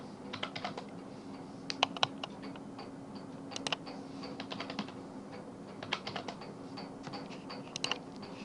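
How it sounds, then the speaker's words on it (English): Keys tapped on a computer keyboard, entering a search term into a browser search box: scattered short clicks in small bursts, close and fairly quiet over a steady low hum, with no talk. "Again I will type testing in this search box."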